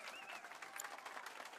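Applause for a pianist in the video game Final Fantasy VII Rebirth: a dense, even patter of crowd clapping, quiet and steady across the short moment, with a faint tone briefly over it.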